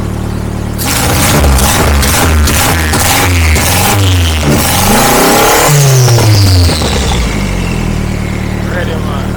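A Lada fitted with a turbocharged 1NZ-FE engine is revved hard, with repeated sharp rising and falling pulls over a loud, close engine note, followed by a sustained rev that settles back toward idle.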